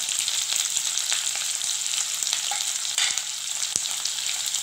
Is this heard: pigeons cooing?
no